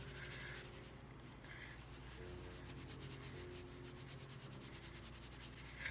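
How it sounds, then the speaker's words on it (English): Two pieces of faux fur rubbed against each other give a soft, steady brushing and scrubbing that runs unbroken from start to finish. It stays faint and close, with no voices. "I find rubbing the two pieces together kind of helps you out if you have a bunch of different furs"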